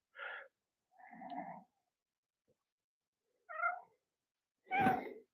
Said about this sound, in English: Currently getting followed by our little cat friend.